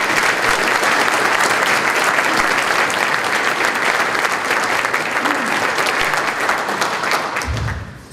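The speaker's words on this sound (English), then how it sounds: "Give them a round of applause" A crowd at the Ponca City High School Hall of Fame ceremony gives the Hughes family a round of applause, with sustained, full clapping that holds steady and then tapers off at the end.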